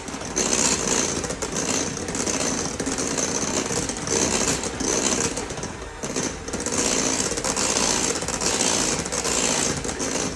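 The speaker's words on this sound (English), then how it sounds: "I'm just gonna beat this heavy whipping cream here just for a second. I'm gonna turn on high a little bit." Electric mixer beating heavy whipping cream on high, a steady close-up whirring hum with a rattling edge that runs continuously throughout, briefly dipping once midway, with no voices.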